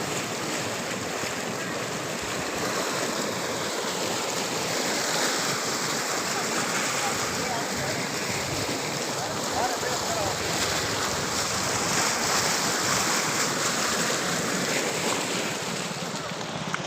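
Water pours from a dam in a broad, steady rushing roar that stays constant and fairly loud throughout, mixed with wind buffeting the microphone.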